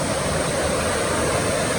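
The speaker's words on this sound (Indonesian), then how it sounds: "Di bawah ada sungai yang memang deras banget tuh." A fast-flowing river below a village in West Java rushes with a dense, steady roar, loud and constant throughout, with no voices.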